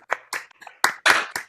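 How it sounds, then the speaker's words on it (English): Scattered claps from a small online audience unmuting their microphones, several separate bursts of hand clapping, uneven and close, with short gaps between them. "let's just unmute and give applause, please"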